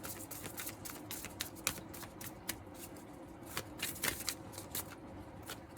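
Tarot cards are shuffled by hand in a quick, steady run of soft riffling slaps and crisp flicks, close and fairly quiet with no talk.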